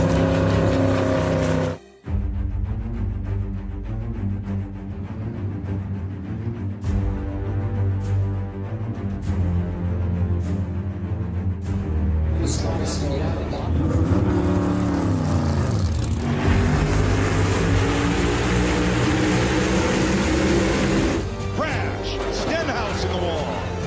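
NASCAR stock cars roar around Daytona in the Daytona 500, with loud, sustained engine drone, several pitch-shifting passes and a brief dropout, all under continuous race commentary.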